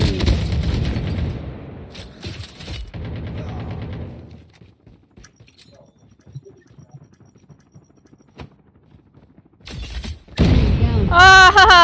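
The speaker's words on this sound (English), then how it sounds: "I got him with my frag grenade." A frag grenade explodes in a video game: a loud, heavy blast rolls out and fades into near quiet, then another sharp burst hits near the end, where a voice also breaks in.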